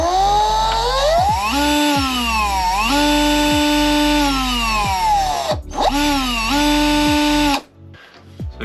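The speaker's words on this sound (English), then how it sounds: "So we could just test our motor now." A Ryobi multi tool motor on a battery whines up into a high, steady electric buzz, dips and climbs again several times across a few bursts, then cuts off abruptly near the end; loud and close, no talk.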